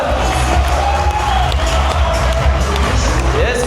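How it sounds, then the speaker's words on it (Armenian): Relatives at a surprise family jubilee celebration cheer and whoop loudly, a dense burst of joyful crowd noise with mixed voices shouting over one another up close. "եթե կարող եք ծափերով ողջունենք այս գեղեցիկ պահը"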